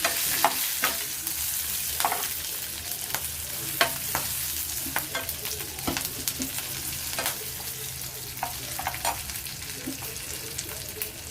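Green chillies and ginger fry in hot oil for a traditional doddapatre tambuli, with a steady close sizzle broken by frequent sharp stirring scrapes and spatters throughout, no voices.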